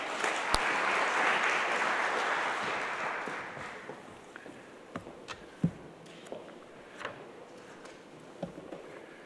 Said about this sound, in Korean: 우리 나오실 때 큰 박수로 환영하겠습니다